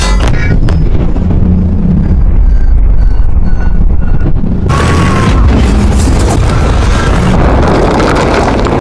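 A loud, sustained roar of blasting and rumbling with a sudden burst partway through, a cannon shot exploding a tire, heavy and close.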